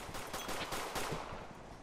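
Gunfire in a horror video game: a quick run of muffled shots, fairly faint and distant-sounding over steady background noise.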